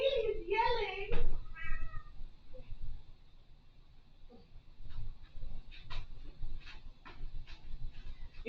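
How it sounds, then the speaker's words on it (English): Pet cat Lily meows loudly in a rising, drawn-out yowl, followed by a few quieter meows and scattered rustling and small thumps as she is picked up. "I gotta get the cat. Come here. Come here. Oh no, Lily is yelling."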